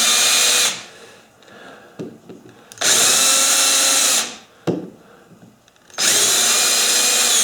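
Three long bursts of a high-pitched power drill whine as a center drill starts holes in wood, each running about two seconds, separated by quieter gaps with a few clicks and knocks.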